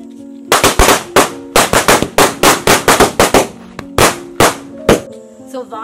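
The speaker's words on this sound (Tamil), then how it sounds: "எல்லா வெடியும் நல்லா தரமா வெடிக்குது." Sivakasi firecrackers bursting for Diwali, a rapid string of loud, sharp close-range bangs in uneven clusters, then a few spaced final pops with faint voices in the pauses.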